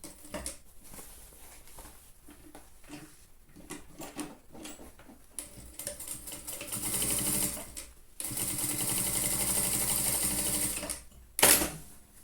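A sewing machine stitches the sides of a fabric trapezoid pouch in bursts, short runs and pauses building to longer steady whirring passages, with a sharp handling clatter near the end.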